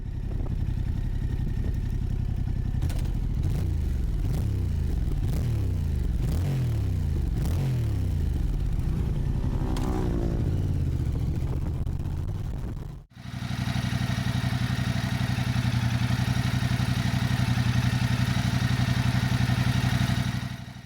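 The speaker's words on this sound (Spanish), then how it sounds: "dejadme que os muestre cómo suena la moto, que suena muy agradable" A 2024 Yamaha MT-07 motorcycle engine idles and revs repeatedly, rising and falling in pitch, then after a brief dip settles into a steady, louder rumbling run nearby.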